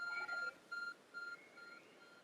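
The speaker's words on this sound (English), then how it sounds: "There's a glowing, beeping object over there." A glowing object in Pokémon Legends Arceus gives off a faint, high electronic beep, repeating in short tones about every half second against a quiet game backdrop.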